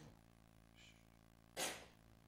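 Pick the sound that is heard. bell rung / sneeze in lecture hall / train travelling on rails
sneeze in lecture hall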